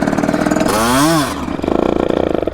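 Gas-engine Surron dirt bike revving hard close by, a loud buzzing two-stroke-style engine note that rises and falls in pitch through a sharp rev, then settles into a rough, pulsing idle.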